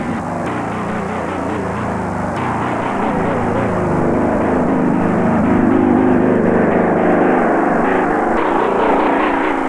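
A slow, cumbersome Caribou transport aircraft flies overhead with a continuous loud propeller-engine drone that holds steady throughout, no voices present.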